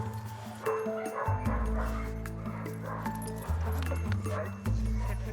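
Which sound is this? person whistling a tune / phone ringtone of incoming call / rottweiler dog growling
rottweiler dog growling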